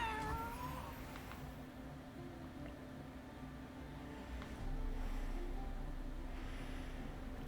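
A cat meows in a video game, drawn-out, wavering cries early on that fade into a low, steady hum of game ambience with no voices.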